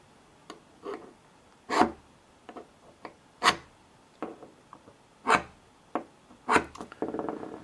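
A caliper scribe on a metal block of Scraptonium gives short, separate scratchy strokes, near and fairly quiet, in an uneven rhythm across the clip with no talk.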